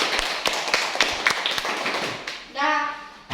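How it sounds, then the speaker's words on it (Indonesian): A classroom group of children claps in scattered, uneven bursts at a guidance lesson, sharp taps ringing out over lively children's voices, ending with a brief tonal vocal sound. "Tepuk tangan."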